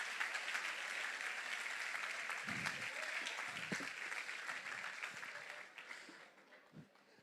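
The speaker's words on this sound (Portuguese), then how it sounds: "Dê um aplauso ao Senhor para esses irmãos aqui." A church congregation gives sustained applause at a praise service, a broad wash of many hands clapping that holds steady, then thins and fades toward the end, with a few stray voices.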